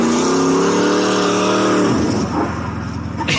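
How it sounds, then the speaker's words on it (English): Car fishtailing as it pulls out of a parking lot, the engine revving loud and close in a sustained whine, then dropping off abruptly into rougher, uneven motor noise. "the guy pulls out of the lot and fishtails right here"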